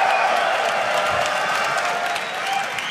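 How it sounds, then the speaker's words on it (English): An audience applauds and cheers after an esports victory at the 2014 North American Counter-Strike summer finals, a steady wash of clapping and crowd noise with a few faint whoops. "Rightful applause after that victory for you guys."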